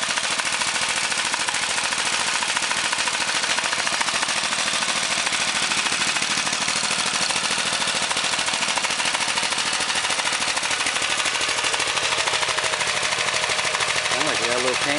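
A Honda race engine with a slightly lumpy cam runs on a motorbike, a loud, rapid, unbroken rattling roar that holds steady throughout, with a rising whine near the end.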